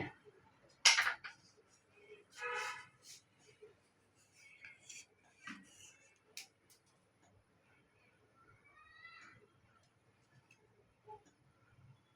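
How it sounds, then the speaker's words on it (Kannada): Mustard seeds splutter in hot oil while a palak gravy is prepared, making faint, scattered pops and crackles in an otherwise quiet kitchen. "ಸಾಸಿವೆ ಸ್ವಲ್ಪ ಚಟ್ಪಟ್ಟಲ್ಲಿ"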